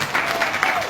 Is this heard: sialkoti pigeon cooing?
no